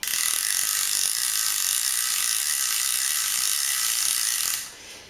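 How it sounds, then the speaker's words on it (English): A Tribrid fishing reel with its clicker ratchet engaged gives a fast, continuous buzzing ratchet whir close to the mic, steady for about four and a half seconds before stopping abruptly. "Now you've got the clicker engaged."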